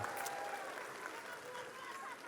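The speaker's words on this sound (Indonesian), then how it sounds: "Tepuk tangan buat semua yang telah ikut merekam." Applause from a community gathering in Kepri, a steady broadband patter of many hands held at an even level for a couple of seconds, with a faint voice or tone drifting through the background.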